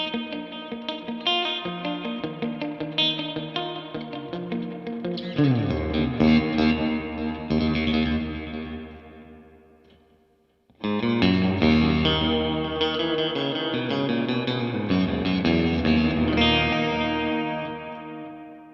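An electric guitar runs through a spring reverb emulating the old Roland Space Echo, its ringing notes smeared into a washy, echoing decay. The sound cuts out briefly near the middle, then the shimmering chords swell back in.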